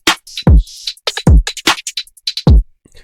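A clean dubstep drum loop with no lo-fi processing: three deep, punchy kicks spaced across the bar, crisp snares and busy bright hi-hats and percussion in between, heard alone and up front.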